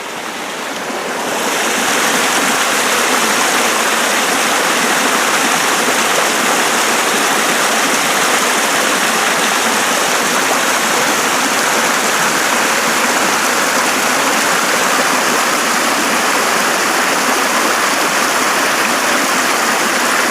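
A creek flowing into the Colorado River near Yuma, Arizona, pours out a steady, close rushing wash of water that stays even throughout, with no talk over it.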